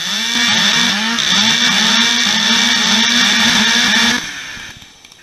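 Angle grinder fixed with a custom bracket onto a sliding mitre mechanism, a loud steady high whine running for about four seconds before cutting off and winding down into quiet.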